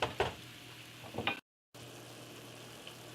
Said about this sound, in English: I'm going to let this cook for about a minute. I'm going to stir